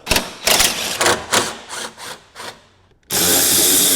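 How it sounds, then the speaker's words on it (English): Wrench work unbolting a crash bar on a B8.5 Audi S4 produces a run of rhythmic ratcheting and scraping strokes, close and loud, followed by a sudden steady burst of broadband noise. "First, I just have to unbolt this crash bar."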